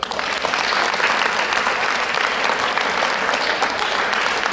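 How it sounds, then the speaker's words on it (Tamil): Pupils and staff at a girls' higher secondary school event clap for their headmistress, a loud, full burst of applause that rises quickly and holds steady throughout. "கைதட்டுங்க."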